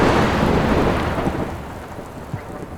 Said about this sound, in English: The hot and wet equatorial climate of southwest Cameroon brings with it heavy downpours